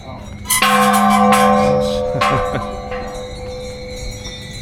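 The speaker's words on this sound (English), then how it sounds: "We got these bells here." Temple bells at the Golden Mount Temple in Bangkok ring out in several loud, close strikes, their bright overlapping tones ringing on and slowly fading, with faint crowd murmur in the background.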